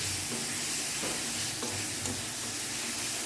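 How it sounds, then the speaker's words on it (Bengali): Chicken masala cooks down in oil in a pan, a dense continuous sizzle with occasional stirring scrapes, steady and close with no voices. "হয়ে গেছে মশলাটা খুব সুন্দরভাবে কষিয়ে নেওয়া"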